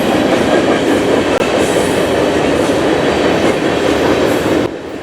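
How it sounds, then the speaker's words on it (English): A CSX freight train led by a 1992 GE C40-8W and a 2000 EMD SD70MAC rumbles past on a former C&O bridge, a loud, steady roar of wheels and cars that drops off slightly near the end. "7771 is a GE C40-8W built in 1992, and 4569 is a EMD SD70 Mac built in 2000."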